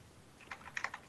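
A player's computer keyboard and mouse during a competitive gaming match: faint, close clicks and key taps in quick irregular bursts over a quiet background, with no voices.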